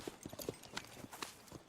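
Horse hooves clip-clop in Red Dead Redemption 2, a quiet uneven series of distinct hoof strikes, several knocks in quick succession at a moderate distance, with no talking.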